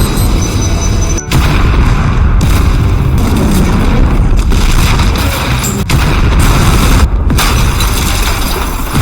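A loud, sustained blast rumbles through an explosion scene in the Chinese action film Angry Pursuit, booming continuously with brief dropouts and no voices.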